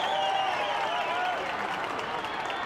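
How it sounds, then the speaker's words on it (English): Crowd applauding at a 1998 rugby league match between Cronulla and Illawarra, a sustained wash of clapping and cheering from a large stadium audience. "The crowd appreciate it."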